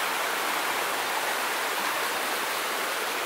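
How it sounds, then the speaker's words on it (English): Water rushing below a log crossing at Iron Creek Falls, a steady, dense broadband roar that holds evenly throughout with no talk over it. "don't look at the water rushing below or the drop-off below"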